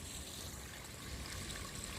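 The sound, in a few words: sewage water flowing into a street drainage pit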